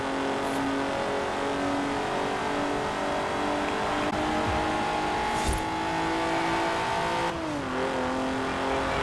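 A stock all-wheel-drive Alfa Romeo 155 Q4 in Forza Horizon 4 gives a steady, close engine drone that rises and falls in pitch through gear changes, with brief tire squeals and no speech.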